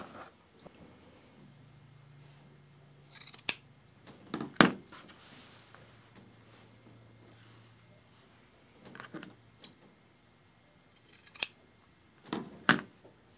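Scissors snip off the corners of a quilt before hand binding, a few sharp close cuts separated by quiet pauses.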